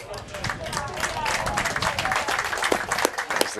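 Spectators clap across a military masters competition venue after an early injury, a broad wash of applause under an announcer's ongoing commentary.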